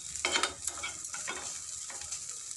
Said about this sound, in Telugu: నెయ్యిలో వేగుతూ ఉంటే మంచి సువాసన వస్తుందండి.